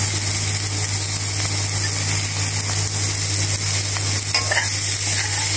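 Chole frying in a pan with chopped coriander and chili flakes stirred in, giving a steady, close sizzle over a constant low hum, with no talk.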